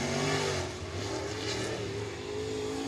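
A race car, the P79 of Jason Page, drives onto the dirt racing surface at Sabine Speedway during the Fall Southern Showdown, its engine droning steadily and loud with a slight swell in revs throughout.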